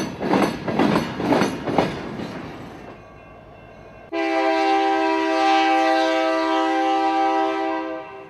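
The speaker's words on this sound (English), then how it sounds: "today, trains are crossing it at 10" A train rolls slowly across a railroad diamond with rhythmic heavy clunks of wheels over the crossing, then a loud, sustained horn blares for several seconds.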